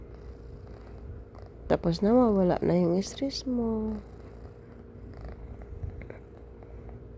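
A house cat purring up close with a soft, continuous rumble, broken by a few drawn-out, meow-like cries; someone talks quietly over it.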